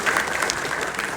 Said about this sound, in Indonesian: Tepuk tangan dulu ibu juga